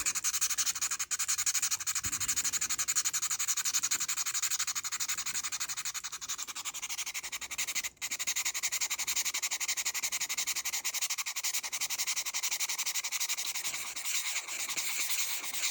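A scratched Seiko Hardlex watch crystal is rubbed and polished by hand, giving a steady, continuous close abrasive hiss with only slight changes in pressure over many seconds, with no talk.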